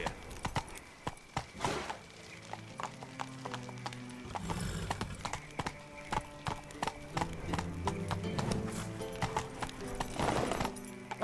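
Hoofbeats of a horse, Roach, running in The Witcher 3: Wild Hunt, a steady clip-clop with a whinny, under game music and effects.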